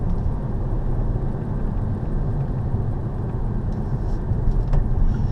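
A 2019 Kia Soul Booster 1.6 T-GDi cruises at about 64 km/h, a steady, loud low rumble of road and engine noise from inside the cabin with no break.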